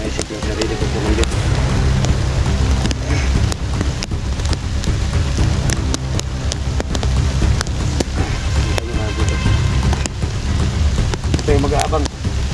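Steady rain patters and hisses continuously, with scattered droplet ticks and faint gusts layered into the dense wash.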